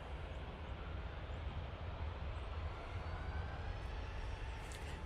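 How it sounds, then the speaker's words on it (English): A KLM Boeing 737-800 on its take-off roll bound for Amsterdam, a steady distant engine roar that holds even and broad throughout, with no voices. "now on the roll, going off to Amsterdam."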